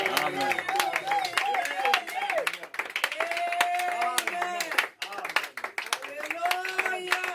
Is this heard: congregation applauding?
yes